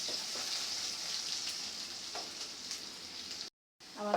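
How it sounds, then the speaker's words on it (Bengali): Onions frying in oil for khichuri give a steady, close hiss and sizzle with faint stirring ticks, cutting out briefly near the end before resuming. "আমার পেঁয়াজটা ভাজা হয়ে গেছে"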